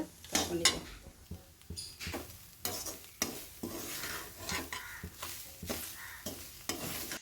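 Grated coconut is stirred and roasted in ghee for coconut burfi, with a spoon scraping the pan in repeated rhythmic strokes over a faint sizzle, close and fairly quiet.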